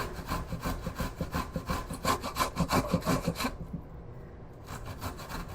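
Fresh ginger rubbed rapidly across a grater in a close, rhythmic run of rasping back-and-forth strokes, then a short pause before fainter scraping resumes.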